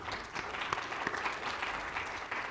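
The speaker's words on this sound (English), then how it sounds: "So please give yourself a round of applause for the work you do and the work that you will do." Symposium audience applauding, a dense steady wash of many hands clapping at moderate distance for the whole stretch, with no voices standing out.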